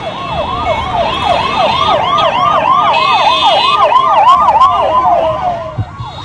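An ambulance carrying a donor heart along a cleared green corridor between Bengaluru and Chennai sounds a loud, close wailing siren, its rising-and-falling tone cycling rapidly over road traffic noise.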